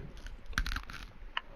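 Pretzels being crunched and chewed close to the mic during a drunken Fourth of July Rocket League session, a few sharp bites with a loud crunch near the middle, then softer chewing and one more crisp snap near the end.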